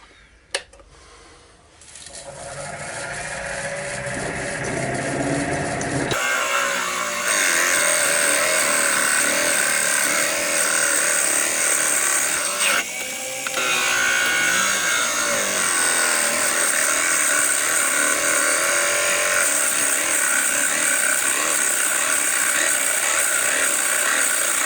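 A Forstner bit bores out the centre of a turned wood box on the lathe, a loud continuous grinding whir that starts after a short quieter spin-up and carries on steadily with slight wavering.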